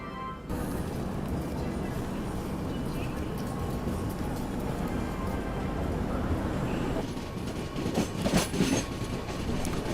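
The Kamakhya Katra Express, train number 5655, stands at platform 2 of a railway station. A steady, close rumble of the rolling train fills the scene, with rhythmic clattering and a few sharper metallic clanks toward the end.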